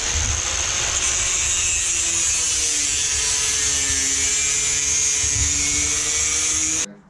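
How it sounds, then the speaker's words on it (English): Angle grinder cutting and grinding the metal frame of a large shop-built powder coating oven, a loud continuous high whine that holds steady throughout and cuts off abruptly at the end. "We fix it with a grinder."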